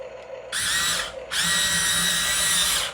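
Two bursts of high, whirring electric motor noise from a HUINA 1594 RC excavator turning and lifting on a countertop, close by, with a brief drop between them before the second, longer run.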